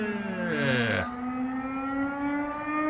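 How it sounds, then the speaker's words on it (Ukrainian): An air raid siren wails steadily over Saltivka, Kharkiv, Ukraine, its pitch sweeping then settling into a sustained tone, with a second siren tone fading out early. "сразу знов повітряна тривога лунає"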